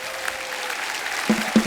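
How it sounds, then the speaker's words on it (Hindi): An audience at a television comedy show claps for arriving guests in a short burst of applause, with a couple of louder swells near the end. "एक बार हमारे मेहमानों के लिए जोरदार तालियां हो जाएं।"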